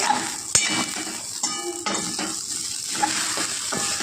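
Sabudana (sago pearls) roasting in a pan while being stirred: a steady dry sizzle with repeated scraping strokes and a few sharp clinks of the spoon against the pan, close up and without talk.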